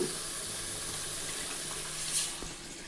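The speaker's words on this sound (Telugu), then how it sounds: "ఇప్పుడు వాటర్ వేసుకుంటాను" Steady hiss of about half a litre of water running and splashing into a pot of chicken curry, continuous and fairly close, with no talking.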